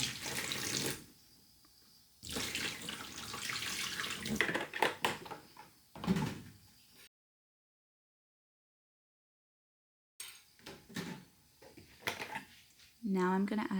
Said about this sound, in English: I'm just going to slowly add in the water until the powder melts